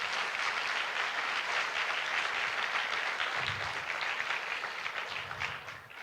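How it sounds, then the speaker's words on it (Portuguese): A church congregation applauding, a dense sustained wash of many hands clapping throughout, steady and fairly loud with a slight fade at the end. "Dê uma salva de palmas a Jesus."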